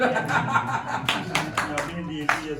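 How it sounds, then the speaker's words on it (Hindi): An audience at a political party meeting breaks into bursts of clapping, several quick rounds of applause mixed with chuckles and nearby talk. "जोरदार ताली हो जाए।"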